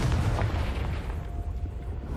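A Confringo spell explosion in a video game gives a heavy, rumbling boom that starts loud and slowly fades into a low roar.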